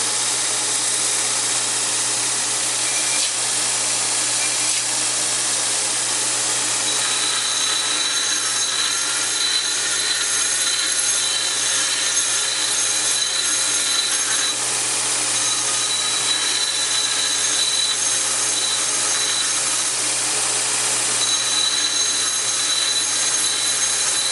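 A bench grinder wheel grinds the cutting edge of a blacksmith-forged tool, giving a steady, loud, continuous whine and hiss with slight shifts as the piece is rocked against the wheel. No one speaks.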